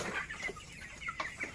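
Broiler chickens about three weeks old murmur and cluck softly in a curtained poultry house late at night, several low, scattered calls rising over a steady background hum, with no talking.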